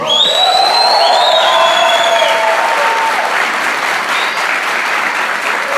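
A Pentecostal church congregation bursts into loud sustained applause with cheering and shouts, a close, full roar of clapping that holds steady throughout.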